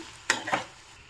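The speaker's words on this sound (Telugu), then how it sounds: "ఇందులోకి మనం మ్యాష్ చేసి పెట్టుకున్న ఆలు వేసుకుందాము ఒకసారి మొత్తం మిక్స్ చేసుకుందాము" Mashed potato being stirred into fried green chillies in a hot pan, two brief scraping, sizzling strokes close by, then quiet.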